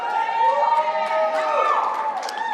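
Audience at a fireside chat event cheering and whooping in support of the Toronto Blue Jays, a dense sustained burst of mixed voices with shouts rising and falling over a couple of seconds.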